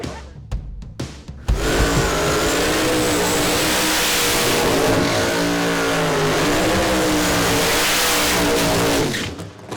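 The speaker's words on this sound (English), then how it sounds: "Drivers just finished up the burnouts over in the left lane." A Chevelle and a Camaro drag race car do burnouts at National Trail Raceway, opening with a few sharp engine blips, then a long, loud sustained roar of revving engines and spinning tyres that fades at the end.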